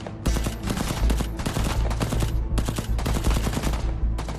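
Dense bursts of automatic gunfire in a battle, rapid overlapping volleys of close, loud shots rattling almost without pause, with short breaks between strings of fire.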